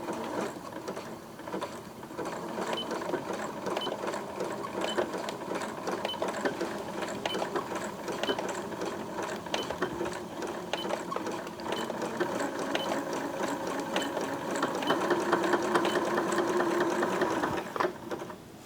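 A Janome sewing machine stitching steadily, a continuous rapid mechanical clatter of needle and gears held at a loud, even level for the whole stretch, with no talking.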